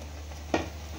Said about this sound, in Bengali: ছানাটা দিয়ে এবার ভালো করে মারতে লাগবে, এটাকে ভালো করে নাড়তে লাগবে